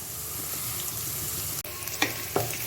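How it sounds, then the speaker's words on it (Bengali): Chili, onion and garlic fry in a pan with a continuous crackling sizzle, broken by a sharp clatter and a couple of stirring scrapes near the end; no voices. "পেঁয়াজ আর রসুনটা এখন অল্প একটু ব্রাউন কালার করে ভেজে নিব, খুব বেশি না।"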